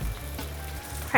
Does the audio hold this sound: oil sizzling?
yes